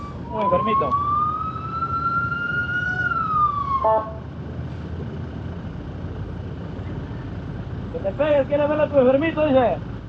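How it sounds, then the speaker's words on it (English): An ambulance siren wails from the back of a traffic queue at roadworks in Peru, rising and falling twice with a pause between, loud and clear over road noise and passing speech. "There's an ambulance like at the back of the queue that's doing its siren."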